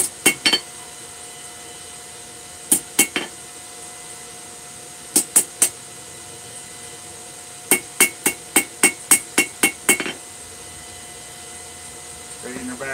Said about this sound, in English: hammer, just straighten her back out.